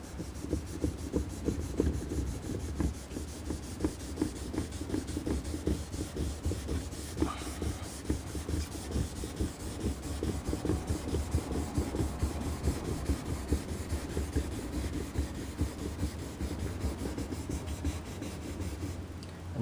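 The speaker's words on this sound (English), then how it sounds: "So what I like to do is kind of sand it at X a little bit." A car's clear coat is wet-sanded by hand in a steady back-and-forth rhythm of soft, close rubbing strokes that repeat for about twenty seconds with no talking.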